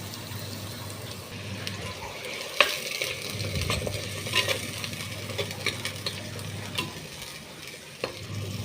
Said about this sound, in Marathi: थोडा वेळ लागतोय मसाले परतायला, पण भाजी एकदम टेस्टी होते.